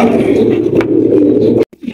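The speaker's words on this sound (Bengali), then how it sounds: "এখানে রয়েছে আরো এক জোড়া মাশাআল্লাহ কিং কবুতর।" A pair of king pigeons at a bird market gives a loud, close, continuous low cooing drone that breaks off abruptly near the end and resumes softly.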